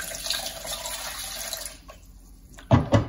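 A kitchen tap runs with a steady hiss of water while shrimp patties are being prepared, then stops, followed by a couple of short splashes and clunks near the sink.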